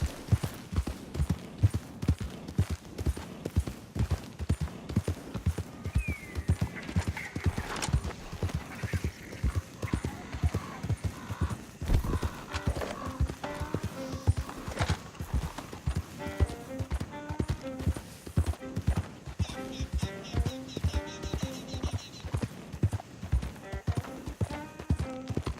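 Horse hooves clop and gallop in a steady, driving rhythm in the Red Dead Redemption 2 video game, with occasional whinnies and game sounds layered over it and voices talking.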